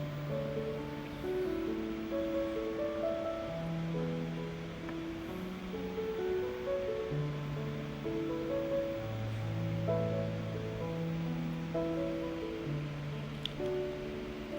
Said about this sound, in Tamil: நம்ம நார்மல் வாட்டரில் கொஞ்சமாக வாஷ் பண்ணி எடுத்துக்க போகிறோம்